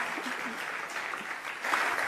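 Applause and cheering from a political event crowd, a dense, steady clatter of clapping that holds for about two seconds and swells slightly near the end.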